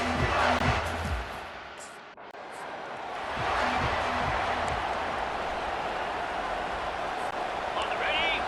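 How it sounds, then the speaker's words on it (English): Broadband roar of a stadium crowd in EA Sports College Football swells and holds loud, dipping briefly before building again, with a commentator's voice talking over it. "This crowd bringing an ear-splitting welcome to their visitors."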